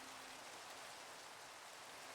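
Rain in the video game Minecraft makes a faint, even, unbroken hiss of falling drops, with no speech.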